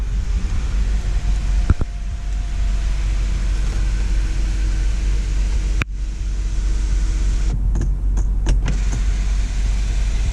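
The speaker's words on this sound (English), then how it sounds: "Sunroof works." Electric sunroof on a 2009 BMW 528i, a sustained motor hum and whir over the steady drone of the idling, rough-running car, with a couple of clicks and a clunk as the panel moves.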